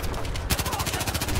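Rapid automatic gunfire in the video game Battlefield 4, a loud, dense burst of evenly spaced shots in quick succession.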